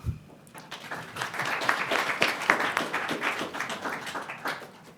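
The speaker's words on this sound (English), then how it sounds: "Maybe a quick round of applause." At an ETHDenver panel on account abstraction, the audience gives the guests a brief round of applause: one sharp hit, then a swelling wash of many overlapping claps that holds steady and tapers off.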